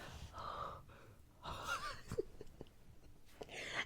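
A voice imitates loud breathing through an open mouth, with a few breathy gasps and snorty puffs spread across a few seconds, close and intimate in a quiet whispered setting.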